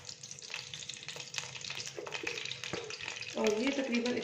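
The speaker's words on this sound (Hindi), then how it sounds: "अब इसमें मैं घी डाल दूँगी। ये मैंने लिए है वनस्पति घी" Vanaspati ghee going into a hot non-stick pan for sooji halwa, giving a steady low sizzle with stirring scrapes that swell louder near the end.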